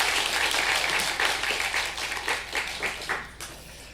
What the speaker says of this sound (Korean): 큰 박수로 환영의 감사의 박수 해주시겠습니다.